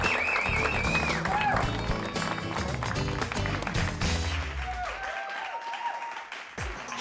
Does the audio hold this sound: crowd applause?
yes